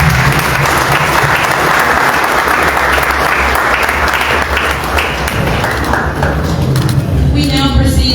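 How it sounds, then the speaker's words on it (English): Sustained applause at the World Bank Group Liberia Country Partnership Framework event, dense and loud clapping from the audience filling the whole stretch, with some voices mixed in and a brief change near the end. "can we give her another round of applause?"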